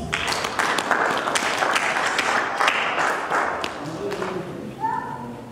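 Church congregation applauding during a Sunday worship service, a dense steady wash of clapping throughout with voices and cheering mixed in, easing slightly near the end.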